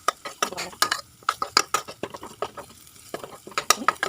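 Cumin, coriander and turmeric fry with ginger in a pan, mostly heard as a spoon scraping and clinking against the metal in quick irregular strokes over a faint sizzle.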